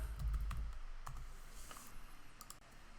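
Keyboard keys tapped in a short, uneven burst of clicks while a design template is entered in craft design software, the keystrokes close and fairly quiet with no voices.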